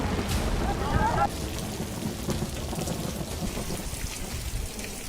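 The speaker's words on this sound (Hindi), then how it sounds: "तेज हवा के साथ हो रही झमाझम बारिश" Heavy monsoon rain driven by strong wind in Bhagalpur, a steady broad roar of downpour with gusty noise throughout, loud and close, with a brief sharper splash near the start.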